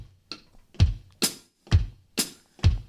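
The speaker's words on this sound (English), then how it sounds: "with a boom under your right leg and a chick under your left leg" Foot percussion alternating a low boom stamped with the right foot and a higher chick tapped with the left, about six evenly spaced hits on a steady beat, close and clear with no talking.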